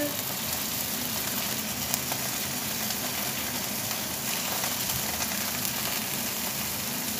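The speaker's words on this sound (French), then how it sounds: "j'ai mis à rôtir pour commencer les merguez" Merguez sausages roast in a pan, giving a steady, even sizzle that holds at a constant level throughout, close up and with no voices over it.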